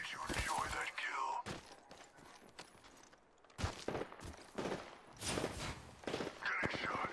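Gunfire in a shooter video game crackles in repeated sharp bursts and volleys, loud and close, with quieter in-game sounds and voices between the shots.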